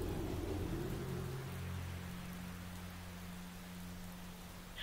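Steady soft rainfall with a low rumbling undertone like distant thunder, continuous and fairly faint, with no voices.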